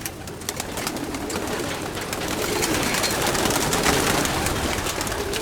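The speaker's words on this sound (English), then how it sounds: "So here are the birds, guys." Racing pigeons, a large flock of young birds sunning at a race loft in Florida, soft continuous cooing mixed with wing flutters and shuffling, dense and close with no voices.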